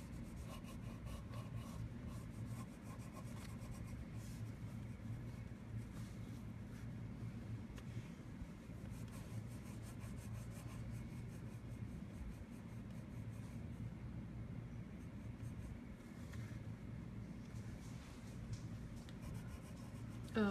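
Colored pencil scratching across paper while coloring an owl drawing, a continuous soft rubbing texture with short repeated strokes, close and quiet, with no talking over it.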